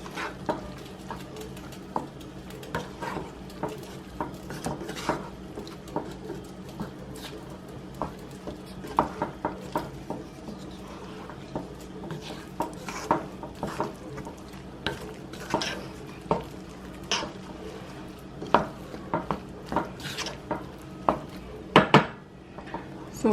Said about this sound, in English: And then I'm going to go ahead and add the rest of the packet. and stir that in as well.